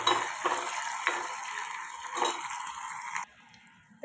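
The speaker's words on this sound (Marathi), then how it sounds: "तर आता टोमॅटो छान फ्राय झालाय." Chopped tomato fries in a pan while a utensil stirs and scrapes it, several sharp clinks over a steady sizzle, close and fairly quiet, before the sizzle drops away near the end.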